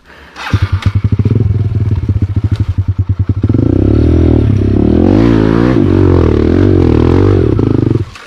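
A trail motorcycle in an endurance competition on a downhill section rattles with a loud, close, pulsing engine, then revs hard and holds a roaring drone before cutting off.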